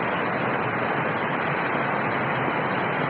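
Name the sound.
waterfall in Kottayam district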